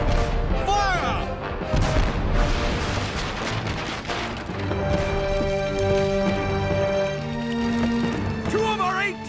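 Cartoon warship 18-pounder cannons fire in a battle, with repeated booms and crashes under loud shouted orders and music.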